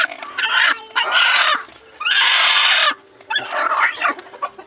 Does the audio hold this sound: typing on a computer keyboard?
no